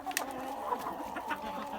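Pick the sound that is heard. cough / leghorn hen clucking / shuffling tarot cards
leghorn hen clucking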